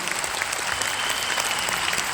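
Loud, dense applause from an award function audience, steady clapping filling the whole stretch without a break.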